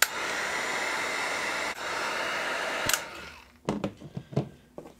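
A hair dryer blows a steady, close whoosh while heating wax on a shoe for a mirror shine, then cuts off, leaving brief rubbing and tapping noises from the polishing.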